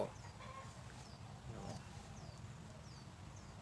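Burmese-breed chickens cluck faintly against a low steady hum, with a few short high chirps scattered through.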